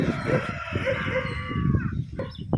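A fighting rooster crows loudly in a long, strained call before a cockfight, with a busy crowd murmuring underneath throughout.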